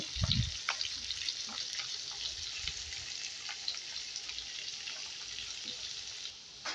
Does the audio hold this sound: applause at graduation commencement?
no